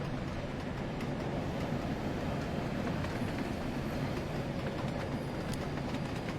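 A train rumbles steadily past in the Train Sim World 2 game, a continuous loud roar with faint rhythmic clicking of wheels over rail joints throughout.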